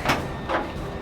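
A VW Beetle door fitted with hidden hinges swings open in a workshop, giving two short soft scraping or rubbing sounds over steady background noise.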